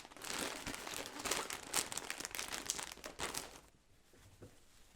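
Close crinkling and tearing of plastic packaging around an ice hockey jersey being opened, continuous rustling for a few seconds, then fading to quiet.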